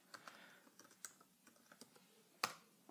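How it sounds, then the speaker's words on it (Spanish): Quiet computer clicks and light taps from a mouse while working in Pro Tools First recording software, a few soft clicks closely spaced with one sharper click near the end. "damos doble clic"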